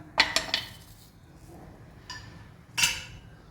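A metal pan set down on a stove, a few bright clinks and knocks in quick succession, then a louder clank near the end, close by in a quiet kitchen.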